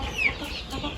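A large hen clucks once, a short near cluck over a low farmyard hum.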